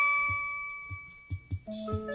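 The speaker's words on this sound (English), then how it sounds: "Don't forget to turn the page every time you hear the chime." A read-along storybook chime for a My Little Pony tale signals a page turn, ringing as a bright sustained bell tone with soft ticking taps beneath, followed by a second set of chiming notes near the end.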